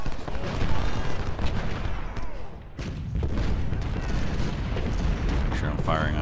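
Cannon batteries fire on enemy guns in the Ultimate General: Civil War strategy game, a dense, continuous rumble of booms and distant shots that stays loud throughout, with a player's voice talking over it.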